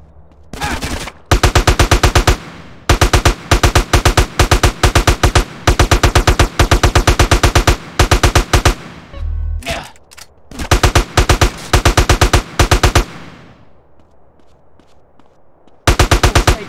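Bursts of automatic gunfire in GTA San Andreas, loud and close, coming in rapid rattling volleys separated by short pauses, with a quieter lull near the end before a final burst.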